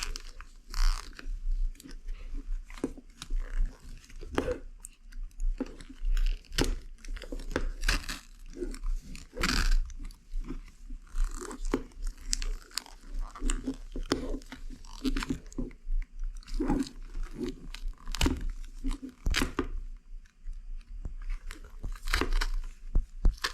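Hearing-protection helmet material being cut all the way across gives a long run of irregular crunching, snipping and crinkling bursts, close and fairly loud, with no talking.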